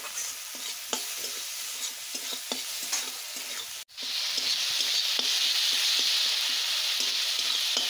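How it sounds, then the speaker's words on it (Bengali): Sliced onions fry in a pan with salt and a little turmeric for daler bora torkari, a steady close sizzle broken by repeated scraping stirs, the frying hiss growing louder and brighter midway through. "দিয়ে দিব অল্প হলুদ, অল্প সময় ভেজে নিব নাড়িয়ে চাড়িয়ে"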